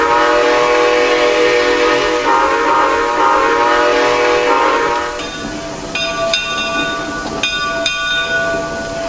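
A loud, chord-like six-chime steam locomotive whistle in the video game Trainz blows a long sustained tone, then fades into hissing before a few shorter, sharper whistle blasts.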